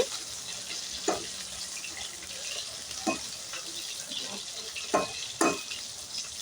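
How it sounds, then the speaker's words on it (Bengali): Soybean chunks fry in a pan for chilli soya, a soft continuous sizzle punctuated by a few distinct scraping stir strokes against the pan, close and otherwise quiet. "এইভাবে দু তিন মিনিট নাড়াচাড়া করে আমি সয়াবিনগুলোকে একটু লাল লাল করে ভেজে নিচ্ছি"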